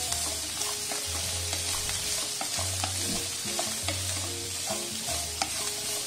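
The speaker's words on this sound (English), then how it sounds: "just saute it for 2 to 3 minutes" Food sautés in a pan on a tawa while grilled butter chicken is being made: a steady bright sizzle, with repeated low scraping stirs at a regular pace, close and alone.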